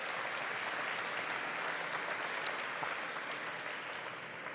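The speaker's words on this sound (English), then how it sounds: "Round of applause for our questioner." Steady, sustained applause from an audience at a public Q&A with the humanoid robot Sophia, an even wash of many hands clapping at moderate volume with no voices over it.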